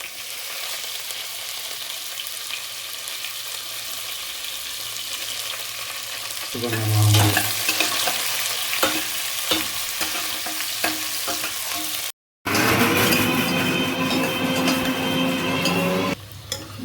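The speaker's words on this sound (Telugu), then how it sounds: "బ్రౌన్ కలర్ వచ్చినంత వరకు ఇలా కలుపుకోవాలి" Onions, cinnamon and chilli stir-fried in oil in a pan until browning, a steady close sizzle with scraping stirs, louder bursts as the pan is worked, no talk.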